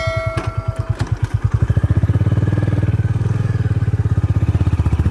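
A Royal Enfield Classic 350, a 350cc retro motorcycle, runs close by with a steady low thumping beat that quickens and turns denser as the ride gets going, with no talk over it.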